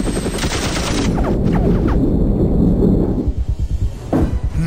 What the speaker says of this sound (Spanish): Active artillería